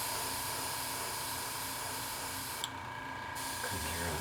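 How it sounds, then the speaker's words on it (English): An airbrush sprays paint at low pressure onto a 1:350 scale Klingon K'tinga cruiser model kit, producing a steady, continuous faint hiss that runs almost unbroken under a constant background hum. "Again, spraying at really low pressure."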